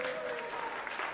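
An audience at a Christian church evening in Hämeenlinna claps in sustained applause, dense and steady, with a voice speaking over it.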